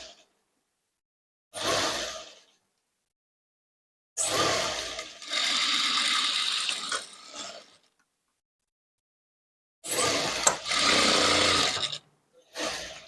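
A sewing machine stitching a princess-cut blouse runs in three separate bursts, one short, one long and steady, then another long run, with a brief fourth start at the end and quiet gaps between.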